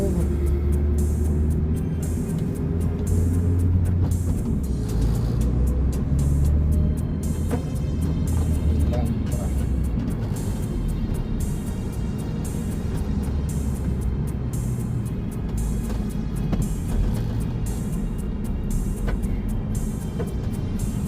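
Heavy road traffic of cars and buses rumbles steadily with low engine drone and passing vehicles, a constant dense hum heard from within the traffic.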